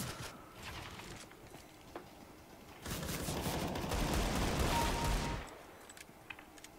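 Rapid automatic gunfire in a CS:GO deathmatch, a dense burst of shots lasting a few seconds between quieter moments, close and fairly loud, with no talk.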